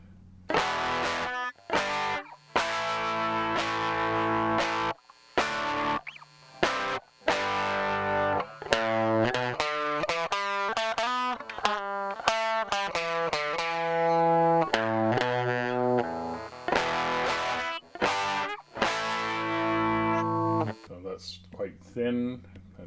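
Electric guitar played through a rare Canadian effects pedal, ringing out distorted chords and single notes with sustained, shimmering tones, gaps of silence between phrases, and a quick run of rising and falling notes in the middle.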